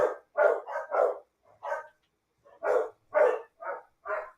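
Dogs barking indoors, a run of about ten sharp, mid-pitched barks in irregular clusters with short pauses between them, fairly close.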